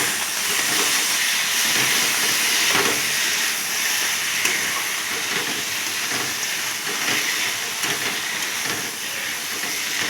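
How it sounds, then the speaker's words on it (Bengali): A catla fish head stir-fries in a spice masala, a loud continuous sizzle and hiss close up with occasional scraping knocks of a spatula in the pan, no voices. "দিয়ে আবার আমি কষাতে থাকছি।"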